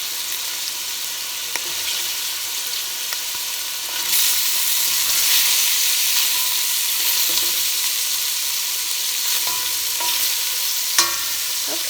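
Italian sausage browning in a soup pot gives a steady, close sizzle that swells after a few seconds and holds, with occasional small clicks and scrapes.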